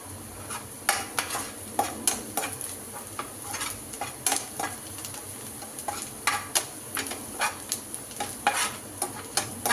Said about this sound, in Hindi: हमारी प्याज का कलर चेंज होना शुरू हो गया है, हम इसको पिंकिश होने तक पकाएंगे।